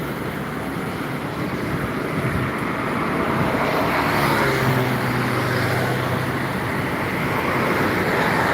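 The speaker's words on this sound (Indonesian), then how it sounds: "masih menunggu bus-bus yang melintas di sekitar jalan lintas timur Palembang menuju Pulau Jawa dan Sumatera" Buses and other vehicles pass on the Palembang east highway as a constant roadway rumble. A heavier vehicle's low drone swells and fades through the middle, with no voices.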